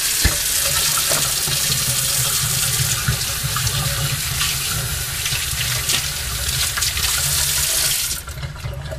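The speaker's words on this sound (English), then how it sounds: "Before to go into the room, we must wash our hands." Tap water runs steadily into a sink while hands are washed, before entering a patient's room in a nursing-student setting; the broadband splashing stays constant and close, then drops off near the end.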